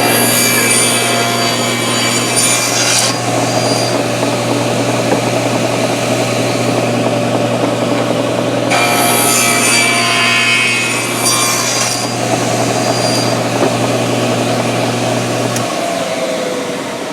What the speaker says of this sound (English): Bring the blade back up to 0 and figure out how to saw them.